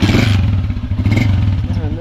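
A motorcycle engine revs under throttle, close and loud, with a steady low rumble and rhythmic clattering surges throughout.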